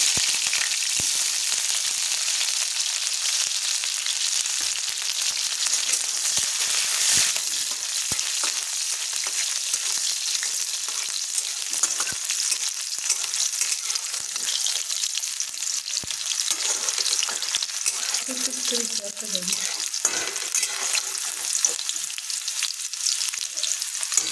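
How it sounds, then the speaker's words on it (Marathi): Green chillies crackle in hot oil for tempering a spinach dish, producing a continuous close, dense sizzle that holds steady throughout with occasional faint stirring. "तेल आता आपले कडलेलं आहे. फोडणीसाठी मिरच्या टाकते."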